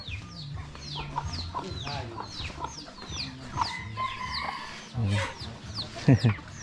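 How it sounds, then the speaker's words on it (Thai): Chickens cluck repeatedly among village poultry, with ducks also present, in a rural Lao village setting; close, busy clucking and crowing-like calls throughout, with a few louder bursts near the end. "เป็ดหนีไก่ไล่เนาะ"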